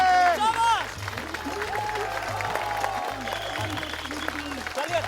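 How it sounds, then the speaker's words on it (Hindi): Spectators at a wrestling semifinal clap and cheer in a dense burst of applause, mixed with crowd babble and voices over a background music bed. "तो वो लोग जोर से ताली बजाई।"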